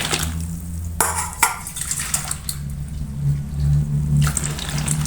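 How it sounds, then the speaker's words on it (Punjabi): Two bowls of hot water poured into a roti box: splashing and trickling water with a few sharp knocks of the bowl against the container, then the gurgle and swirl of settling water. "ਇਹਦੇ ਵਿੱਚ ਪਾਵਾਂਗੇ ਦੋ ਕੌਲੀਆਂ ਗਰਮ ਪਾਣੀ ਦੀਆਂ"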